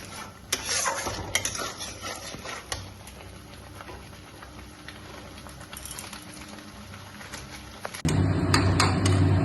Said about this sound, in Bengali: তো এবার আমরা মশলাটাকে ভালোভাবে কষিয়ে নেব যাতে